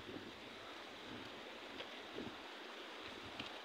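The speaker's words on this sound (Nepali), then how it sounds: "यता खोला कलकल हावा पानी" Mountain river rushing beside a footpath in cold, gusty wind, a constant broadband roar and gurgle heard close and alone with no voices.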